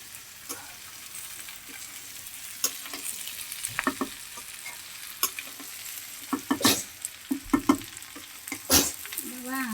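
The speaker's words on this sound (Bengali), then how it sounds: "ভাজি করছিলাম সবগুলো একসাথে আবার একটু কষিয়ে নিই ভালো করে" Raw jackfruit being stir-fried in a pan in a home kitchen, a low frying hiss beneath irregular scraping and knocking of a spatula, the strokes growing busier and louder toward the end.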